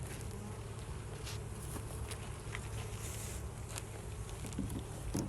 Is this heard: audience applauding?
no